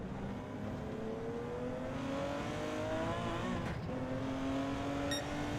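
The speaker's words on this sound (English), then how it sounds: "It's also the first time I'm listening to the engine." A 1970 Porsche 917K racing engine in Gran Turismo 7 drones at high revs throughout, pitch climbing and shifting with gear changes, steady and fairly loud with no voices.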